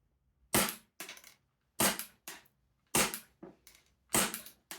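An AAP01C Shinobi gas blowback airsoft pistol fires BBs in four evenly spaced pairs of sharp cracks, each shot followed by the slide's quick clack, loud and close with no talking.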